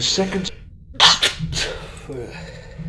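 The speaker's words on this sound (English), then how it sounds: "Was that a sneeze?" A single close sneeze bursts out in the middle of conversational speech, with a voice talking before and after it.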